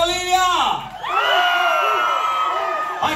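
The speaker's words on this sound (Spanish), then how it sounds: "aplauso a la Bolivia" A crowd cheers and whoops for a Bolivian dance group, Coreografía Salay Bolivia USA, with loud, sustained shouting and voices filling the whole stretch, a brief dip midway and a sudden cut at the end.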